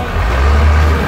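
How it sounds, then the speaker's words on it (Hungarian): A truck engine drones low and steady throughout, a continuous rumble with no clear revving, fairly close. "Kamion motor."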